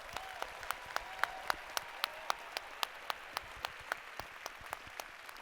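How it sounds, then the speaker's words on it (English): At a spring university commencement for doctoral, MFA and medical degree candidates, the audience applauds graduates: a soft, distant wash of clapping with crisp, regularly spaced nearby claps standing out across the stretch. "Let's give them a big round of applause."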